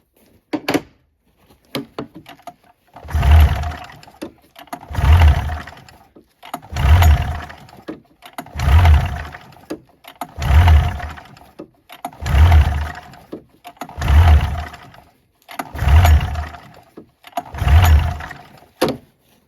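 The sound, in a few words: old snowmobile engine cranking, trying to start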